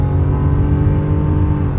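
A 1989 Acura Legend coupe's engine revs under throttle in a steady, loud, close drone with a deep rumble and no voices over it.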